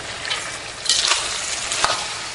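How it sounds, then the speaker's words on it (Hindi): Pumpkin halwa frying in oil with sugar added gives a steady hiss and crackle, with a couple of brief louder stirring scrapes. "हम ऑयल में फ्राई कर रहे हैं।"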